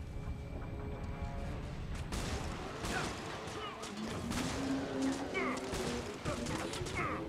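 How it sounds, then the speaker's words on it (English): Bursts of gunfire and impact crashes in a PS3 shooter running on an emulator, fairly quiet, mixed with game music and effects, with a voice talking over parts of it. "oh, getting shot to pieces"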